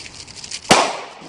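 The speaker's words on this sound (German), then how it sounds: "Vorne sind 90er Jahre Knaller, ne?" Firecrackers from the 1990s go off in a single sharp, loud blast that decays over a short noisy tail, with faint background hiss before it.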